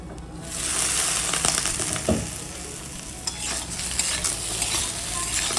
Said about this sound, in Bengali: বেগুনটা চাপা দিয়ে ভেজে নিলাম